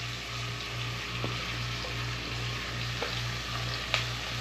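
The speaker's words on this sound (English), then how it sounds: "our butter and grease is melted. We're just going to go ahead and chunk these in the pot" Chunks of aromatics sizzle steadily in melted butter and grease in a pot for homemade hot sauce, a continuous crackling fry with a low hum and a few light clinks of a utensil.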